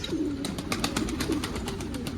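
Pigeons coo softly and repeatedly nearby, with light rustling and faint clicks in the background.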